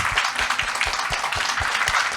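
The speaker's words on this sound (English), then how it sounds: "Please help me to applaud those wonderful people." A brief burst of audience clapping at an education conference, steady overlapping claps at moderate loudness with individual hand strikes standing out.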